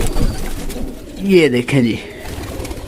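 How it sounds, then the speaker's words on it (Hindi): A Sialkoti pigeon coos close by in a few soft, rolling phrases while someone talks over it. "ये कबूतर है जी माशाल्लाह से सियालकोटी"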